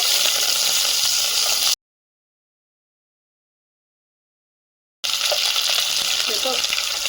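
Dried red chillies, whole cumin and chopped onion fry in hot oil with a steady, bright sizzle close by, broken by a silent gap in the middle, with faint stirring scrapes near the end.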